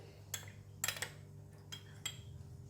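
A tapioca flour mixture being mixed in a bowl, with a few quiet clinks and taps of a spoon against the bowl, spaced irregularly and faint.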